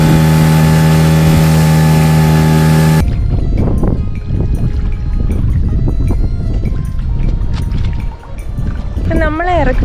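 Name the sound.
boat engine as boat departs from island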